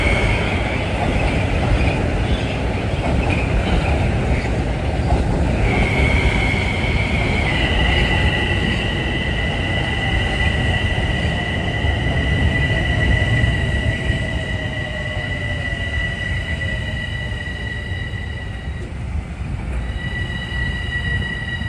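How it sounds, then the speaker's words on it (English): Commuter trains pass steadily at Harlem 125th Street station, a continuous loud rumble of rolling cars with high steel wheel squeals and sustained brake tones rising midway and persisting to the end. "Trains keep coming."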